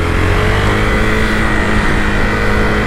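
A 2020 Husqvarna Vitpilen 401 motorcycle engine drones steadily while riding, a close, loud and constant single-cylinder hum with wind rush and no gear changes or pauses.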